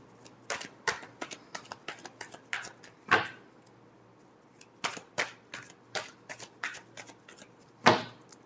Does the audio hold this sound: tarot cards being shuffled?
yes